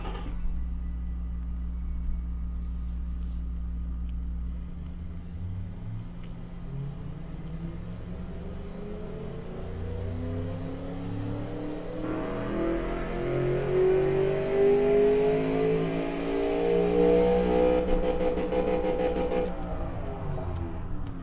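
A car engine in the Automation driving game, a 2006 Vector Caisson with variable valve lift, starting with a low idle and then revving up, rising in pitch and getting louder and clearer as it accelerates.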